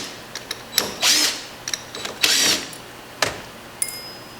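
An impact wrench zaps screws out of a heated IAME X30 kart clutch drum in two short, buzzing bursts, with scattered clicks and taps from the part in between, close up.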